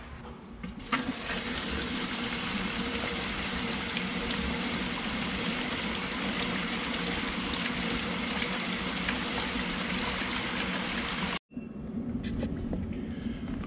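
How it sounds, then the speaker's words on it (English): Water runs from a hose or tap into a hot tub being filled, a loud, steady gushing rush that stays constant for about eleven seconds, cuts off briefly, then resumes. "So we'll go ahead and turn on the water and see what happens."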